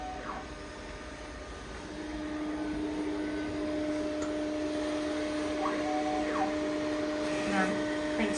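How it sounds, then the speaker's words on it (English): A Lancelot DTF printer runs a print head test, a steady mechanical whir with a constant tonal hum and occasional short chirps of the carriage moving, getting a bit louder partway through while a person speaks. "And I'm printing just a print head test."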